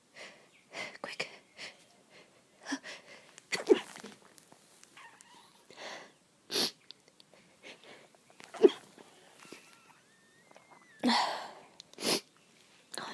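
Several short, sharp sneezes and sniffs come from a person hiding in a dusty place, scattered between hushed whispered talk, close and intermittent.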